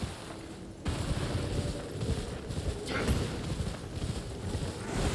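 Horse hooves clip-clop at a steady trot in the Elden Ring video game, a continuous close rhythm over wind-like background noise, with no talking.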